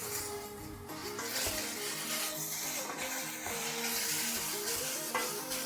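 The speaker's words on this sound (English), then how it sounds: "I love the smell of caramelizing lamb." Lamb caramelizing in a very hot pot on the stove, giving a loud, steady close sizzle with crackling bursts and a few clinks of stirring throughout, no voices.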